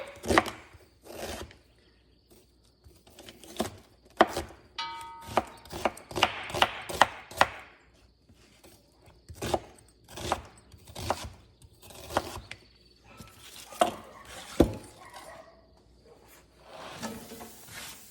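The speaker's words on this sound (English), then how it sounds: "So I'm just gonna chop up an onion." An onion being chopped on a cutting board, a long run of distinct close knife strikes in an irregular rhythm, some quick bursts and pauses, with no talking.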